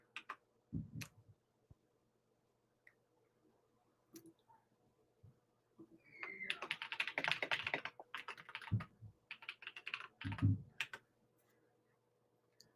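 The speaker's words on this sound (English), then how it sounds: "Got my clicky keyboard for everybody who finds that inspiring, maybe." A clicky mechanical computer keyboard being typed on up close, with a few isolated keystrokes followed by a dense, rapid burst of clattering clicks and then scattered taps in a quiet room.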